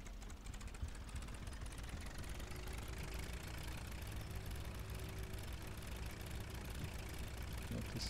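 Tractor engine driving across a field in Farming Simulator 17, a steady continuous drone with a low knocking rumble that holds at an even level throughout, fairly close and unbroken.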